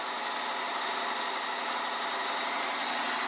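A car engine runs in a steady, even idle with a broad, constant rumble, heard alone and fairly close, right after starting during a battery cranking and charging system test.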